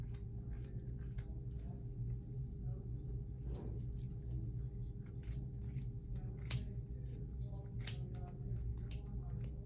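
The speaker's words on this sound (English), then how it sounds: "You might need to use sharp scissors because the fabric or the yarn's pretty thick." Sharp scissors snip through thick yarn on a pom pom maker in a string of quick, crisp cuts scattered across the stretch, close and fairly quiet over a low background hum.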